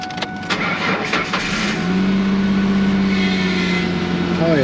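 A car engine cranks and fires up after belt and tensioner replacement, then settles into a steady idle with a rising belt whine, loud and close, while a person talks over it.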